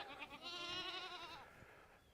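A single goat bleats on a farm, one long, wavering, nasal cry lasting over a second, fairly close and quiet against faint background noise.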